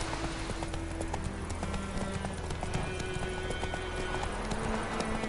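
Horse hooves clip-clopping steadily at a gallop in The Witcher 3 on PS5, a continuous rhythmic pounding close up with a low game ambience beneath, no talk.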